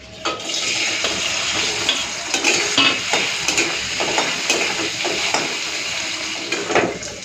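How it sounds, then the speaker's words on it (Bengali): Paneer cubes frying in white oil in a pan for paneer khichuri, a steady broadband sizzle with small bursts and crackles throughout, close and fairly loud, no voices. "এই যে এখন ভেজে নেব এই পনিরগুলো।"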